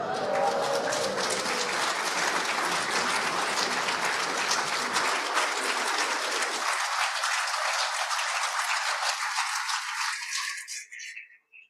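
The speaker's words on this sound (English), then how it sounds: "The applause is wonderful and well merited." A congregation at a Shabbat morning service applauds for a 102nd birthday, a dense, sustained round of clapping that gradually thins out and fades to silence near the end.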